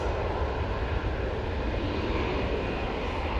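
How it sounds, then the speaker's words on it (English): An EasyJet airliner on its takeoff roll at Manchester Airport, a dense, steady engine roar close by and alone, holding even throughout. "EasyJet, now on the roll"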